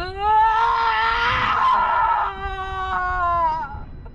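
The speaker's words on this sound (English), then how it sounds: "that was a very exaggerated scream" A female character in The Expanse video game lets out a long, exaggerated scream with strong, wavering pitch that holds for about three seconds, then trails off and falls away.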